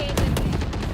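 Rapid gunfire in the Valorant video game, several quick loud shots in a short burst, close and dense.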